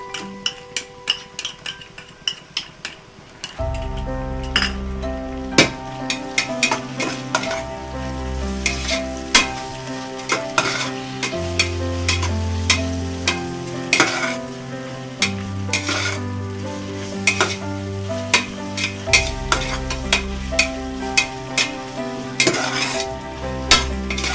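Ginger garlic paste sizzles in oil with cooked onions for vegetable biryani as a spoon stirs and scrapes the pan. The loud, continuous frying is punctuated by rhythmic metallic clinks and taps. No one speaks.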